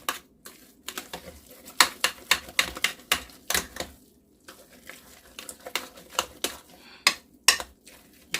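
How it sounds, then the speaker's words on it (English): Stirring homemade burgers smothered in onions and gravy in a pot: a series of sharp metallic clinks and scrapes of a utensil against the pot, irregular in rhythm with short pauses, close and clear. "Going to stir this a little bit more"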